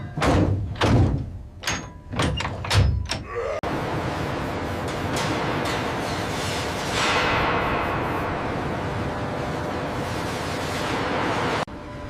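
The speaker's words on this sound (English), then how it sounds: "The torpedo tubes are greased and the hatches are slammed shut." Torpedo tube hatches on the submarine USS Thresher slam shut in several heavy metallic bangs in quick succession, then a loud, steady rumbling hum carries on alone.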